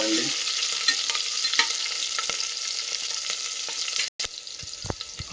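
Chopped green chili pieces fry in a pan for peas pulao, giving a continuous sizzle broken by scraping stir strokes and clicks, with a brief dropout near the end.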